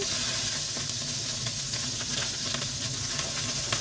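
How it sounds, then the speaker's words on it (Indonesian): Eggplant frying in hot cooking oil gives a steady, loud, close sizzle with crackling spatter throughout, and no one speaks. "kita panaskan minyak, kita goreng ini terongnya teman-teman"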